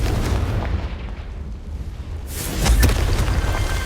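A Confringo blasting spell explodes in the Hogwarts Legacy game: a low rumbling burst fades slightly, then a louder, sharper blast lands near the end, close and forceful.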